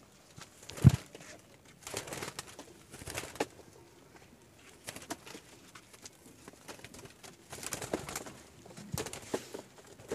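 Pigeons nearby, with scattered soft coos and bursts of fluttering wings and rustling that come and go.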